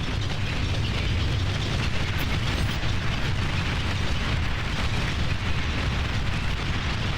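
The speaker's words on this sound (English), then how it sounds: "they're getting ready to bomb him into the ground" Bombing in the real-time strategy video game Beyond All Reason makes a loud, unbroken roar of overlapping explosions, a dense rumbling wash that keeps the same intensity from start to finish.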